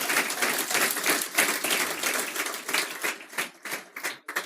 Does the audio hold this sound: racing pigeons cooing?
no